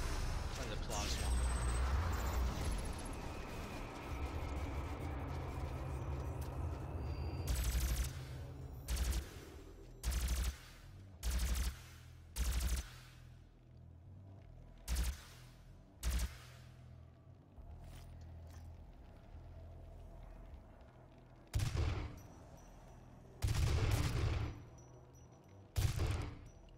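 A plasma gun fires in the video game Doom, heard as a series of short, sharp blasts spaced out over a steady background game rumble. There is talk at times during the clip.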